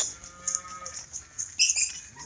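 A cow moos a few times in a calf barn, the lowing calls fairly close but modest in level, with high-pitched barn noise and bird-like chirps over them and no talking.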